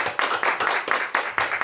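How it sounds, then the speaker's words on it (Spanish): A church congregation claps hands together in a steady, quick rhythm, about six close, loud beats. "Dele palmas al Rey."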